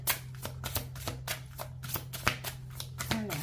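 Tarot cards from the Chemins de l'éveil deck being shuffled and handled, a quick series of crisp riffling snaps and slides close by, steady and moderately soft, with a low hum underneath.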